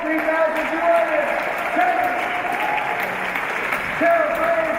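An audience at a jazz and soul concert claps along in a dense, sustained wash of applause, with voices calling out over the clapping.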